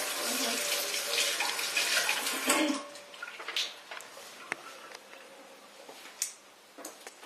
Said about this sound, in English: This has mustard on it, so I got to wash this off.